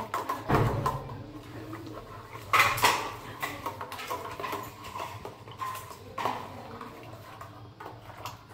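A spoon stirs about three spoonfuls of powdered milk in a bowl, with close, irregular clinks and scrapes against the dish at a soft, steady level and no talking.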